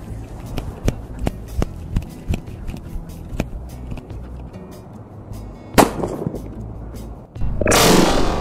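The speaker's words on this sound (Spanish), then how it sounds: "Y el último test, harina versus Trueno Rojo, que no se me queda el nombre." Trueno Rojo firecrackers explode in flour: a run of sharp pops and cracks, then a louder blast and a final burst of heavy, sustained noise at the end.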